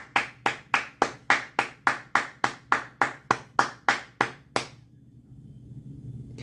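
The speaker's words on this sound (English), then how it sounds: "One more round of applause to the boss." Sharp, loud slaps repeat at a regular pace, about a dozen in a row, from a single source rather than a crowd. They stop abruptly, and a low murmur of background noise follows.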